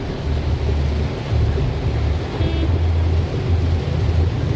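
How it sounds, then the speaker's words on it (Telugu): Heavy rain on the road between Hyderabad and Karimnagar, a dense steady wash of noise with low vehicle rumble underneath, continuous and fairly loud for the whole stretch. "భారీ వర్షం ఫుల్ వర్షం పడుతుంది చూడు రోడ్డుకు ఇరువైపులా ఫుల్ వర్షం"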